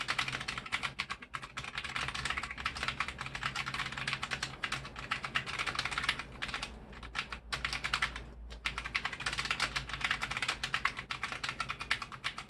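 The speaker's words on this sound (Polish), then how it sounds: "pisząc na nich wyczuwalna jest wyraźnie aktywacja towarzyszona stonowanemu kliknięciu" Fast, continuous typing on an iBOX Aurora K-3 mechanical keyboard with brown switches, muted clicky keystrokes in a dense steady stream, close and alone without talk.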